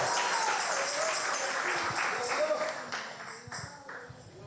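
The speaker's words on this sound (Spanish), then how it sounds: "alguien puede mejorar ese aplauso al Señor. Dale palmas al Rey, dale palmas al Rey." A church congregation applauds in sustained, dense clapping that slowly fades over a few seconds while a voice speaks over it.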